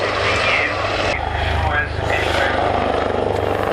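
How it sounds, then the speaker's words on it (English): Royal Navy Wildcat helicopter flying display at the Southport Airshow, a loud rotor and engine roar that swells and fades as it manoeuvres, with a commentator talking over it. "Today, however, Dave is demonstrating the Wildcat's remarkable maneuverability"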